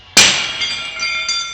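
A part is smashed and shatters in a single sharp crash, followed by a bright, ringing, glassy decay that lingers for over a second.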